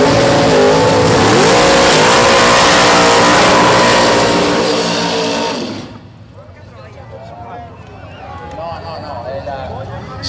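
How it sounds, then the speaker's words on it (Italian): Two 1957 Corvette Roadsters racing side by side at a hill race, a loud broadband roar of engines and crowd that cuts off abruptly, leaving quieter background sound and a voice commenting. "Nicole, la moglie sulla corsia di sinistra, due Corvette Roadster del 57 del 57."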